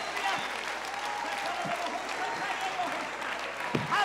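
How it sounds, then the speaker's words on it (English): A church congregation claps along in worship, a steady wash of many hands at moderate distance, continuous and fairly even with a faint low hum underneath. "Clap your hands to the Lord."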